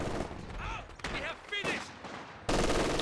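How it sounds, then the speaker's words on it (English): Machine gun fire in the video game Company of Heroes 2, bursts of shots mixed with battle noise, with a louder, denser burst near the end and a voice talking over the earlier part. "MG coming in from the side here"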